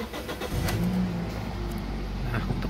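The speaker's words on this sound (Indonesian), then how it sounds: "kalau gitu saya akan menyalakan mesinnya." A car engine being started with the clutch pressed, a low close engine rumble that catches and settles into a steady idle.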